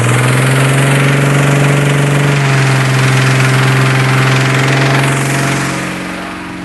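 A Honda engine powering a hot-air balloon inflation fan runs loud and close with a steady droning hum, its pitch shifting slightly midway before the level eases toward the end.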